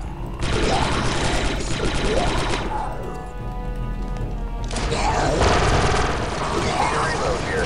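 Rapid automatic blaster fire bursts out in the video game Star Wars Republic Commando, sustained volleys with a short lull between them, loud and close amid game sounds.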